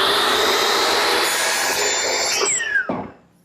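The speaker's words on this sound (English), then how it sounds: "I'm adjusting my miter saw to 45 degrees so that I can miter the bead" A power miter saw set to 45 degrees cuts through a wooden bead in a workshop, giving a loud, steady whining rasp that ends with the blade spinning down to silence.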